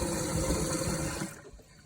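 Water rushes into a garden sprayer tank as a steady, close, loud pour, filling for over a second before fading and stopping.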